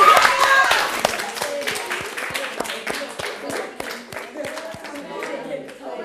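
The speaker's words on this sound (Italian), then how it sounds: "fatevi anche l'applauso" Game show contestants on Per un pugno di rifiuti clap for themselves, a run of sharp, fairly regular claps that thins out over several seconds while voices talk over it.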